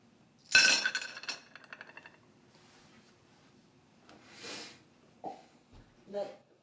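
A sharp glassy clink rings out at the start, followed by a few softer clinks and scrapes, then quieter handling noises.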